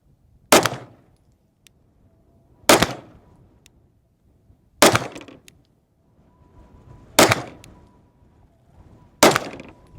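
Five evenly spaced, sharp, loud shots from a Staccato HD pistol fitted with a Genghis compensator and firing 124 grain Speer Gold Dot rounds on an outdoor range, each crack ringing out alone with a short decay and roughly two seconds between them.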